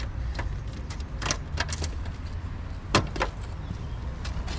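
Keys jangle and clink in the lock of a Simson moped's fuel tank, a series of short, close metallic rattles and taps with faint engine-bay background.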